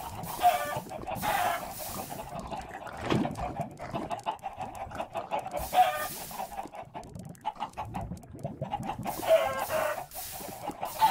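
Several chickens in Minecraft cluck repeatedly in short bursts with occasional louder squawks, moderately near, no talking.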